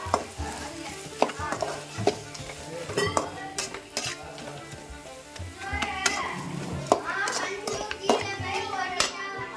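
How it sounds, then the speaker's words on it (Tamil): Ground coconut fries in a pan for coconut rice, a spoon scraping and clanking against the metal in irregular stirring strokes over a soft sizzle, close and fairly loud. "அரைச்சி வச்ச தேங்காய் ஆட் பண்ணிடலாம். நல்லா இந்த மாதிரி ஃப்ரை பண்ணிக்கலாம்."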